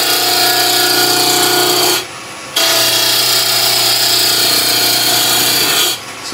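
A wood lathe running at 1500 rpm roughs down a turning blank as the gouge scrapes loud and close in two long bursts, separated by a short pause.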